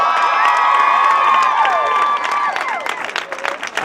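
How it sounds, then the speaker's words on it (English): A crowd at a diversity rally at WWU applauds and cheers, with whoops and high shouts over steady clapping, loud at first and thinning toward the end. "Can we give another round of applause?"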